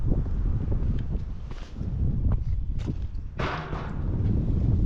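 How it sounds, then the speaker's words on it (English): Wind gusting across a rough lake at a fishing spot, a continuous low rumble and buffeting against the microphone with a few brief rustling bursts. "Wind is just as bad over here on this side."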